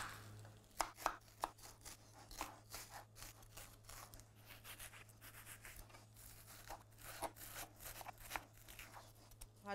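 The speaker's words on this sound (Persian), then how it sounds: "من اینو همینطور خردش میکنم." Knife chopping an onion on a board for Shirazi salad, a long run of quick, crisp taps in irregular bursts, close but soft, with a low steady hum underneath and no talking.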